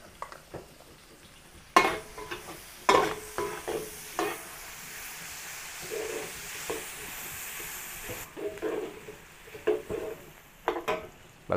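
Onions sizzle with garlic in a pan, a steady frying hiss broken by sharp scraping and clanking strokes of a spatula stirring at irregular intervals, close and alone without talk.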